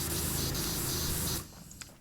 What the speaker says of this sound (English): Let's just spray in this general direction.